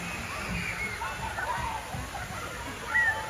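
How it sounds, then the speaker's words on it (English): Water splashes and sloshes steadily at a small outdoor water park, a continuous wash of moving water heard from a moderate distance with faint voices in the background. "They have a small water park here too."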